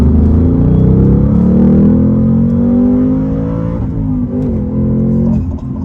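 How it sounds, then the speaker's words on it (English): A 2023 Ford Mustang Mach-1 accelerates hard in second gear on a multi-lane highway, its engine a loud, deep, rising roar from inside the car that briefly dips at a shift before climbing again. "We're not going to do a first gear pull, but second gear, get situated on the gas."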